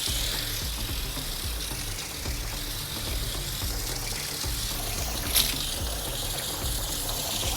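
Steady stream of water poured onto garden plants close by, a continuous gushing hiss and splash with no voices.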